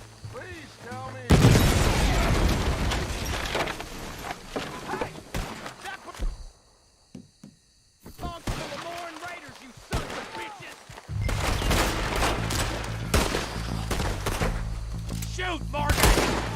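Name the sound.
gunfire in the video game Red Dead Redemption 2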